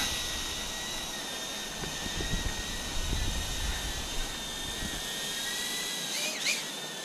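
A Boldclash BWHOOP B03 Pro micro drone flies outdoors with a steady high-pitched propeller whine, holding its tone throughout with small shifts as it maneuvers, and light wind noise underneath.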